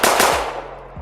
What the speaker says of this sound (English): And gunshots, please.